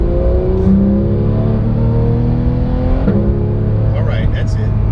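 A Porsche 911 GT3 991.2 engine revs up close and loud, its droning note climbing steadily in pitch, with a brief dip near the end before rising again.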